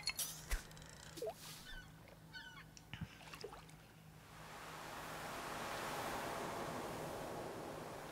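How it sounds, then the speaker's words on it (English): Faint bird calls and clicks give way to a soft, steady wash of ocean waves in Stardew Valley that swells gently and holds. "I love the sound of the ocean."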